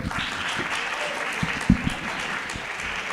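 A conference audience at a university autumn-school lecture on green chemistry claps steadily for about three seconds. The applause is moderately loud, with a few sharper nearby claps standing out.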